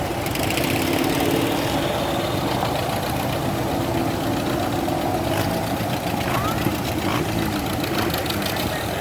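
Oliver tractor engine running steadily just after starting, a continuous mid-pitched chugging drone at an outdoor antique tractor show, with people talking faintly in the background.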